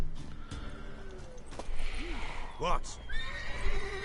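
A mare neighs loudly in The Witcher 3 amid hoof clip-clops and game ambience, with a short spoken word in the mix.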